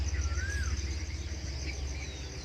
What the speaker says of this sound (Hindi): चिड़ियों की आवाज़ बहुत अच्छी आ रही है